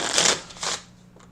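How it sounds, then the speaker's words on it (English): Playing cards riffle briefly in two quick bursts of crisp fluttering, close and alone, as a deck is shuffled. "Then I'll take half the deck from each and shuffle it 3 times."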